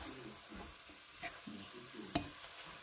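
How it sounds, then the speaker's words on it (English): Chicken curry aromatics with minced garlic being sautéed in a pan, a faint, steady sizzle with rhythmic spatula scrapes and one sharp clack near the end, heard up close without speech. "And saute until the fragrance comes out."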